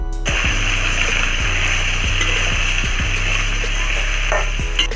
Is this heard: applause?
no